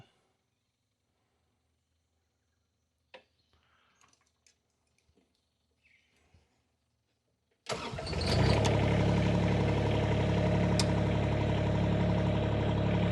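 After a few quiet clicks and knocks, a Derette XC1100 motorcycle engine cranks and catches, settling into a loud, steady idle without rattling.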